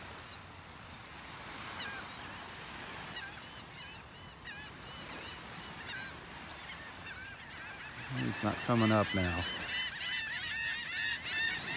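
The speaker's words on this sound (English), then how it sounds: "Listen to all the birds." Flocks of birds, including seagulls and goose-like honking fowl, call repeatedly on a beach in North Naples, Florida, over steady surf, with a burst of loud honking near the end and someone speaking briefly.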